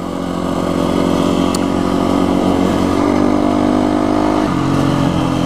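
KTM dual sport motorcycle engine on a trail ride in Beef Basin near Moab, Utah, running steadily and close, with a sustained mid-pitched drone and a brief drop in revs near the end, no talking.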